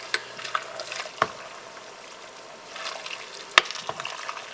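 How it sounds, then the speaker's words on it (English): Spoon stirring boiling spicy cabbage soup in a pot, with soft liquid swishes, bubbling and a few sharp clinks against the pot, fairly quiet and close with no speech. "we're starting to boil, so we're just going to give it another good mix."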